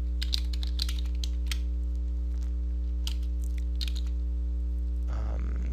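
Keys clatter on a computer keyboard in quick bursts of close typing over a steady electrical hum, with a brief rustle at the end.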